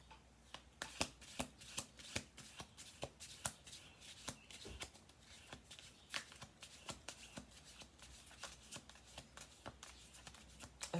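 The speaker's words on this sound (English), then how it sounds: "Do one more shuffle." Tarot cards being shuffled by hand, a steady run of soft, papery riffling flicks repeating close and fairly quiet for several seconds.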